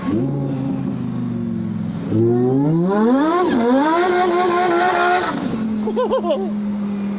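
A loud supercharged Lamborghini STO engine revs up through rising gear pulls with a high supercharger whine layered over the roar, then settles to idle.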